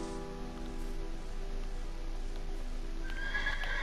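A Minecraft horse whinnies in a steady, moderately loud call over a constant game background hum, with a brief higher squeal near the end.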